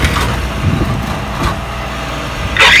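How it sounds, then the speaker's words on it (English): A tow truck's engine rumbles nearby at low idle, with a brief rise in mechanical noise near the end. "Well, the tow truck is here"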